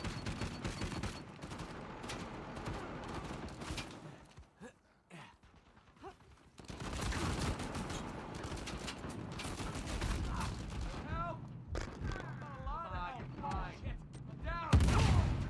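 Grenade explosions and gunfire in a video game, with bursts of blasts and rattling shots over busy mechanical effects, a brief lull, then more heavy explosions, and a voice speaking now and then.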